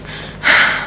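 A voice imitates heavy, forceful breathing heard over a phone line: a quiet hiss, then a single loud breathy rush that swells and trails off, close and alone without other talk.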